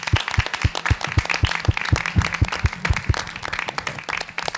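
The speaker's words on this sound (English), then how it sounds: "Let's give them one more round of applause." Applause at a school board meeting for students, parents and teachers: a small group claps, with one pair of hands striking loud and close in a quick steady rhythm over lighter scattered clapping.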